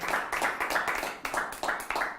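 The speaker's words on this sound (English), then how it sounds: "we give an applause to her" A magic show audience claps for a volunteer, several short bursts of clapping close together over about two seconds, moderately loud.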